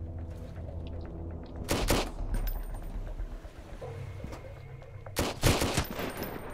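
Shotgun and rifle gunfire in the survival game Sunkenland, with two loud close bursts of shots separated by quieter ambient game noise and a brief spoken word.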